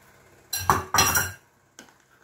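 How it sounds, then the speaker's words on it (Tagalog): Egg being mixed into a rice patty mixture in a bowl, with two bursts of utensil scraping and clinking against the bowl, then a single short clink after a pause. "Halo po natin at ang egg ay ihalo na rin natin dito sa"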